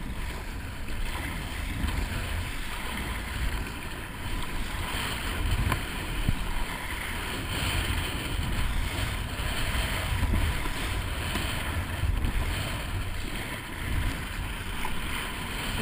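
Steady wind buffets the microphone over rolling waves on the cold Cantabrian Sea in December, heard from a kayak while fishing for sea bream; a constant broadband rush with gentle swells and no voices.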